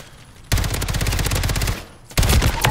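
Two long bursts of rapid SMG fire in a Call of Duty multiplayer match, loud and close, the first stretching over a second before a brief pause and a second burst.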